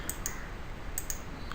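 Sharp computer mouse clicks while working in SolidWorks CAD software, a few crisp taps in two quick pairs, close and dry with no talking.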